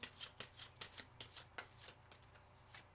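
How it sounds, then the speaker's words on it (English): A tarot deck shuffled up close, a steady series of crisp flicking bursts at an even rhythm, no voices. "Sorry, I need another shuffle."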